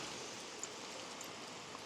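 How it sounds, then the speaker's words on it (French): Steady hiss of rain falling, a continuous wash of fine drops with no voices, even and unbroken throughout. "Oh putain là, la pluie là"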